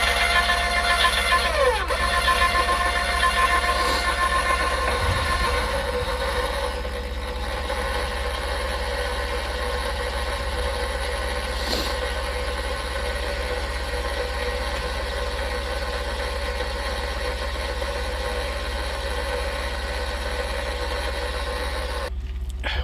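A 2021 Jayco trailer's tongue jack retracts with a steady, unbroken mechanical whir that holds at an even level for over twenty seconds, with a faint click or two and no speech.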